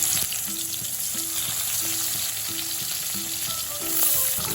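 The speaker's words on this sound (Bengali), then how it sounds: "মাছ দিয়ে দেবো ভাজার জন্য।" Koi fish sizzle steadily as they fry in hot mustard oil over a medium-high flame, a close, continuous crackle and hiss without any talk.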